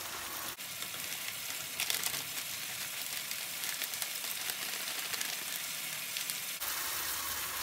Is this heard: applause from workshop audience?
no